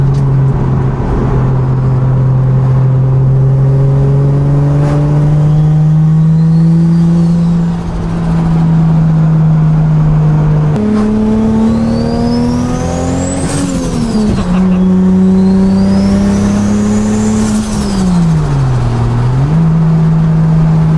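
A turbocharged widebody Toyota Supra engine revs repeatedly from the inside, loud and close, climbing and dropping in pitch several times while held below about 4,000 rpm on a stock, unmapped ECU.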